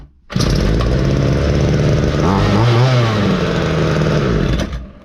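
A repaired Ryobi petrol string trimmer starts and runs loud and close, its small two-stroke engine holding a steady buzzing drone for several seconds before cutting out.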